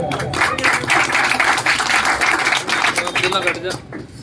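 A crowd greets a guest with hearty applause at a public gathering in Dhandera Town on Laksar Road, Roorkee, dense continuous clapping filling the space, with voices faintly under it.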